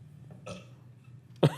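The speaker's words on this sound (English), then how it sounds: "And she goes to leave, and he burps." A man burps once, short and loud, near the end, after a quiet stretch of low hum and faint movement in a horror film scene.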